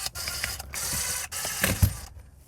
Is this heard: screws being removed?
yes